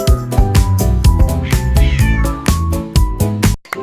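A kitten meows repeatedly in a quick, regular, songlike rhythm, loud and close, over tonal backing music.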